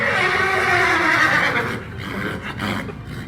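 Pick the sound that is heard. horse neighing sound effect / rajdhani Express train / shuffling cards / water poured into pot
horse neighing sound effect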